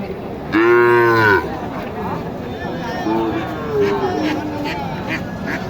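Early on, a Sahiwal heifer lets out a loud, close moo about a second long at the Mataji cattle market in Naogaon, followed by weaker animal calls under people talking.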